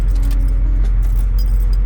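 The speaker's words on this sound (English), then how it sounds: "Truck's running. It's in park." An untested Ford truck idles in park, giving off a loud, close, steady low rumble with a faint metallic jingle on top. No one speaks.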